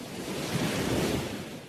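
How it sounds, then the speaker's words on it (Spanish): Ocean surf washes in on a beach in a broad, loud rushing roar that swells and eases, with wind buffeting the microphone and no voices. "miras las olas que vienen"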